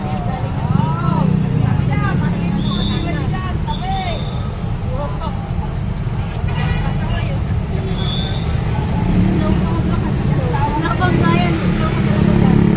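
Buses and other traffic roll past on a busy road in the Bicol region, a constant broadband engine rumble and road noise with muffled voices and babble mixed in throughout.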